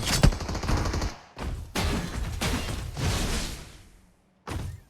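Loud bursts of automatic gunfire from the video game PUBG Mobile come in several close, sustained volleys with brief gaps, and a final short burst follows a moment of silence.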